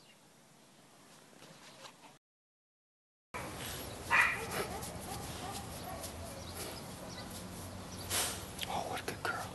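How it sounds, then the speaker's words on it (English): Female dog, a visiting guest in a quiet indoor room, giving a few soft barks and yips, close by, mixed with low voices and whispering. "This is a dog that's staying here for a little while"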